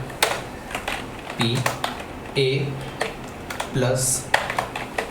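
Computer keyboard typing in bursts of quick clicks, close and clear, alternating with someone speaking over it.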